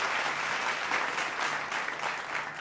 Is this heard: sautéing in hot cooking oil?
no